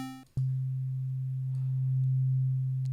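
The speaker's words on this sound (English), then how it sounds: "So this basically outputs a sine wave." A steady, pure low sine tone from the sub-oscillator of Ableton Live's Wavetable synth starts abruptly after a brief higher tone and holds evenly and loud for about two and a half seconds.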